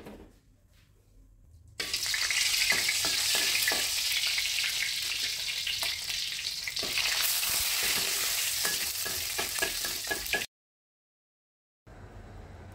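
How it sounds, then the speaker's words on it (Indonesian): Oil sizzles and crackles steadily as seasoned, pre-simmered chicken liver and gizzard fry in a pan on a home stove, with occasional stirring clinks, then cuts to silence before resuming briefly. "ini saya pengen goreng dulu ini ati ampela"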